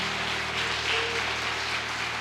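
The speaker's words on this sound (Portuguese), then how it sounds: "Vamos dar uma linda e forte salva de palmas para o Senhor." An audience at a church service gives sustained applause for a newly introduced couple. Dense, even clapping fills the space at a moderate distance, with a steady low hum underneath.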